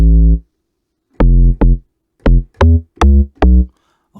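An amapiano log drum bass synth in Reason 12, with the oscillator switched to a different wave shape, plays six short, punchy, deep tonal hits. The hits come in an uneven rhythm with clean silence between them and no talking.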